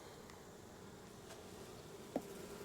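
Continuous low drone of bees buzzing around a hive, steady and faint, with one brief louder click near the end.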